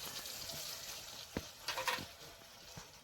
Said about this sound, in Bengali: একসঙ্গে মশলা ভালো করে কষিয়ে নেব।